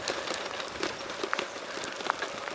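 Steady rain patters on a surface at İçmeler beach, a dense, soft hiss with scattered faint drop taps and no talking.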